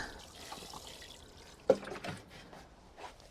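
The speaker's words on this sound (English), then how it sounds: "So just give that a bit of a water in." Water poured from a can onto compost in a carrot seed tray gives a soft, close trickle with one brief louder splash partway through, alone without talk.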